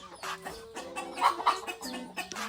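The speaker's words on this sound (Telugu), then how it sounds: "మన దగ్గర నాటుకోళ్ళు మరియు బాతులు కూడా ఉన్నాయి" Country chickens cluck in a farm shed, a close series of short, uneven clucks rising and falling over a couple of seconds, with no voices.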